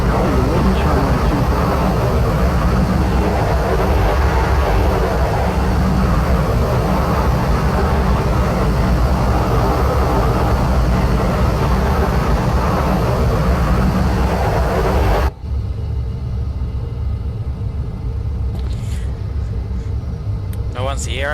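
Simulated Boeing 737 jet engines spool up for the takeoff roll at Christchurch in X-Plane 11, a loud steady broadband roar that fills the first fifteen seconds, then drops abruptly to a quieter cabin rumble with a voice over it.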